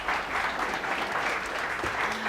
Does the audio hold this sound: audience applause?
yes